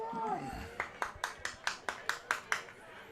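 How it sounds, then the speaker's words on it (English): Rhythmic crowd clapping from Cardinals fans at a Landrum Cardinals versus Central Eagles high school football game, about nine evenly spaced claps after a brief voice, moderately distant. "That's the Cardinal Bronx cheer there"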